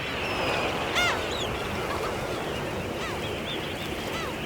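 Birds on a tidal mudflat, scattered honking and goose-like calls at a distance over a steady wash of background noise, a few calls rising above the rest.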